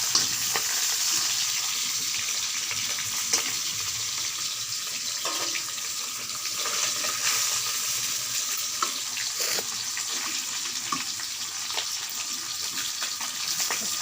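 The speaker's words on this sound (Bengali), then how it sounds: "মাছগুলো ভাজা হয়ে গেছে, এখন নামিয়ে নেব।" Rohu fish pieces frying in oil in a pan, a continuous bright sizzle with occasional stirring clinks and kitchen noises, fairly close and unbroken by talk.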